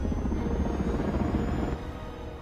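Spearhead aircraft from the film Spectral in flight, a steady loud rotor-like drone with dense low rumble that drops slightly in level near the end, no voices.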